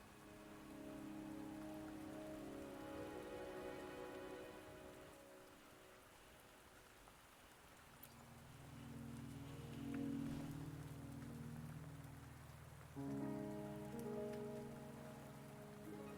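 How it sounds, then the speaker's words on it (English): Rain patters steadily on surfaces in the video game Wuthering Waves, with soft tonal music swelling and fading underneath; no voices. "Don't worry, the rain won't last much longer."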